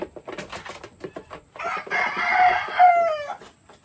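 A rooster crows loudly and close by, following a series of scattered clucks and scratchy farmyard noises.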